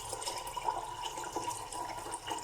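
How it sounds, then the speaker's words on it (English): Water runs steadily from a tap into a pot holding a leg of lamb, a faint continuous splashing rush close by. "And then I'm going to cover this with water."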